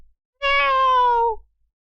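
A person imitates a cat with a single drawn-out meow, close and clear, sliding slightly downward in pitch and then stopping, with silence before and after.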